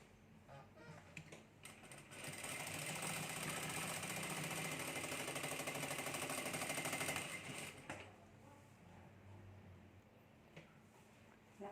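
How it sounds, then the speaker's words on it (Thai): A sewing machine stitching fabric runs in a quiet, steady, close mechanical whir for about six seconds, with faint handling clicks before it starts and after it stops. "เย็บตามรอยกิ้งก่อนนะคะ เย็บตามรอยที่เราทำไว้นะคะ"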